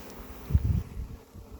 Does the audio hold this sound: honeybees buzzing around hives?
yes